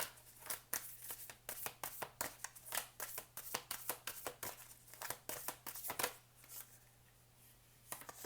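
Oracle cards shuffled by hand in a quick run of sharp riffling slaps, then slowing and stopping as a single card is drawn; close and fairly quiet, with no talking.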